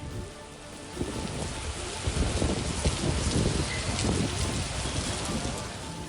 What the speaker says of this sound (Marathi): विजांच्या कडकडाटासह जोरदार मुसळधार पाऊस कोसळतोय.